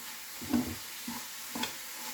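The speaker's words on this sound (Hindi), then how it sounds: "दोनों को हम बाकी के स्टफिंग के साथ अच्छे से मिक्स कर देंगे" Jaggery stuffing mixed with cardamom powder and black pepper is stirred in a pan, giving a few soft scraping strokes over a faint steady sizzle.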